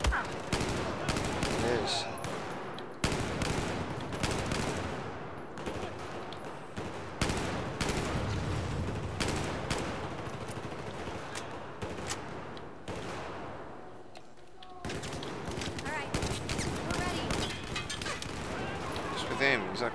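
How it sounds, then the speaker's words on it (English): Burst-fire gunfire from Battlefield 4 crackles in repeated short volleys amid dense combat noise and explosions, with someone talking briefly over the din. "Oh, this is burst fire, is it?"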